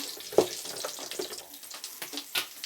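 Fenugreek, mustard seeds and cumin frying in oil for Nellore fish curry, a quiet close sizzle with scattered small crackles and pops, heard alone.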